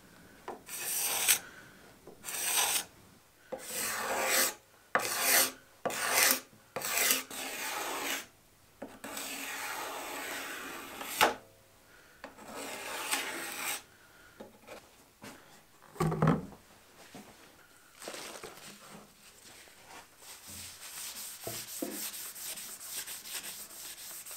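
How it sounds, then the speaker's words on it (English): A cabinet scraper on the wood of a handmade broom, making close, dry rasping strokes in uneven bursts, then a longer stretch of softer continuous scraping with occasional knocks. "I used a cabinet scraper to clean all the marks left by the spoke shave."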